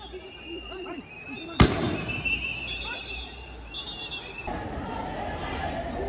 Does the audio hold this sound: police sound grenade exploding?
yes